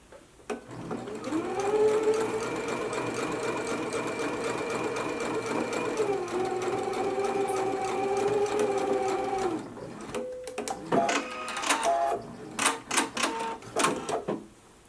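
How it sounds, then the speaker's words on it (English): A sewing machine stitches a narrow hem along an inner fold while a twist-front top is being sewn, running steadily for about ten seconds with a slight pitch shift midway, then stopping and giving several short clattering bursts. "So let's go to the machine now and we can go ahead and stitch right along this inner fold to create our narrow hem."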